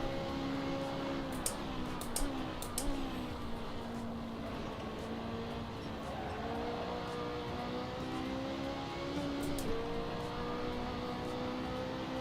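Rally car engine in the racing game Dirt Rally, a steady droning, revving tone that rises and dips with gear changes, accompanied by occasional sharp clicks and a constant background hiss.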